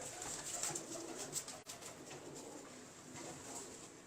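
Soft, low cooing of Heeralaal pigeon pairs, repeated and continuous against a faint background hiss.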